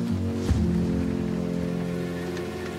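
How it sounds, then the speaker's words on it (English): Heavy rain pours down in an animated children's cartoon, a steady broadband wash of falling water with a brief louder splash near the start, with no talking. "a super heavy rain began to pour all of a sudden"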